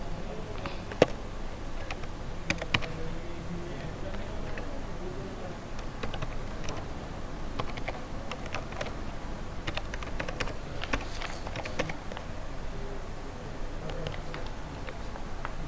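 Rapid typing on a computer keyboard, steady bursts of clicks and taps at close range, heard alone with no talking, as someone fills in an email address on a CRM registration form.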